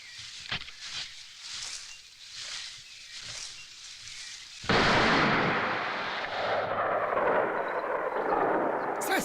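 A cartoon gunshot bursts out suddenly midway, a loud broadband blast that follows quieter rustling and thumps and then tails off into a lingering noisy rumble.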